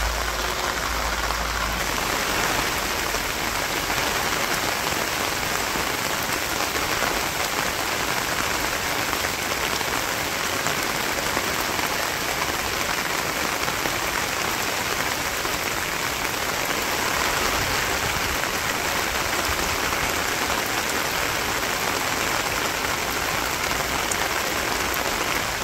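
Heavy rain pours steadily over a Bangladeshi village, a dense, close, unbroken hiss of drops on surfaces with no pauses and no voices.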